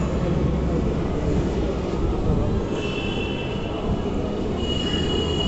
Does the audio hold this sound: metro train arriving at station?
yes